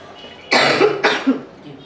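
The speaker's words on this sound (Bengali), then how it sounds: "প্রচন্ড কাশি হচ্ছে আর গলায় ব্যথা হচ্ছে" A person with a sore throat coughs twice in quick succession, close and loud, with a short quiet pause before and after.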